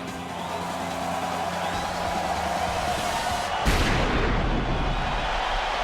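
A single sharp gunshot rings out in the Yakuza 5 video game, cutting through the steady in-game background ambience partway through.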